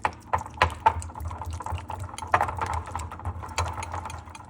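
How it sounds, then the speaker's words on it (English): A whisk beats two dressing ingredients together in a bowl, giving irregular clinking strokes and soft wet sloshing at close range, with no talking. "So whisk these two ingredients together."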